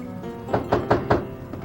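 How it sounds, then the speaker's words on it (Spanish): Four firm knocks on a door in quick, even succession, close and distinct against a quiet room. "Enseguida escucharon que tocaban la puerta nuevamente."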